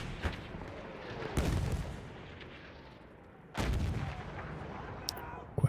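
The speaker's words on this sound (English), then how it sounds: "Quite nice kill with the mortar by Miles" Mortar fire in the video game The Division, two heavy booming launches a couple of seconds apart, each with a long rumbling decay, over a low background of game ambience.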